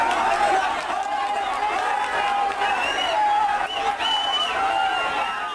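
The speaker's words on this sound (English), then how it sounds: "A massive crowd around the Chief Minister's vehicle." A massive crowd presses around the Chief Minister's vehicle at Nandigram, a continuous roar of voices, shouting and chatter with cheering swells, loud and close throughout.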